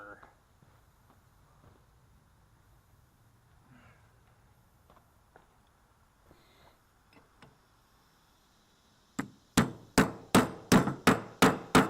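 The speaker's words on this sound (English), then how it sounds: "Hammer." After a long quiet stretch of faint shuffling, a hammer strikes metal about eight times in a steady, loud, ringing rhythm, loosening a tight 3/8 bolt while repairing a rotary mower.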